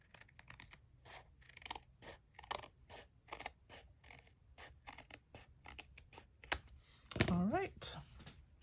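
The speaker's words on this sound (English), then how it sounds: "then I will trim off the excess with my paper snips" Paper snips trim excess paper on a handmade honeycomb card, giving a run of quick, crisp snipping cuts in a steady rhythm, close and faint, ending in a brief louder rustle.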